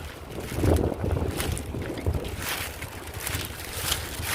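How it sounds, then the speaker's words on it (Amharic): Strong cold wind gusts buffet the microphone outdoors, a loud, rumbling, uneven roar that swells and eases in waves throughout with no voices. "ፍራሹ ንፋሱ አንስቶ ከኔ ሊሄድ ነው እንዴ?"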